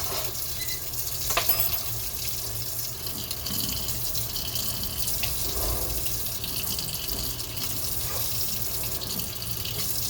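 Water pours steadily for a Japanese milk bread dough, about six tablespoons at room temperature, running as a continuous, fairly quiet splashing stream with no talking.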